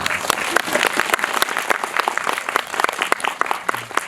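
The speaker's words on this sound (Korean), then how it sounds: "우리 조현철 감독님께 박수 한번 부탁드릴게요." Audience applause for a film director at an independent film festival screening Q&A in Seoul, steady dense clapping from a seated crowd throughout, fairly close and loud, with no talk.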